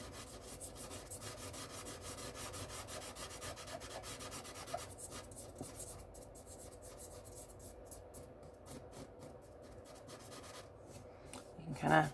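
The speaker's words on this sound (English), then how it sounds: "You can kind of rub that in." White charcoal rubs on paper in soft, continuous strokes. The sound is faint and close.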